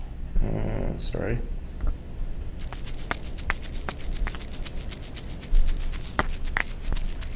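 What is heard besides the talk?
sampled Ghanaian shaker instrument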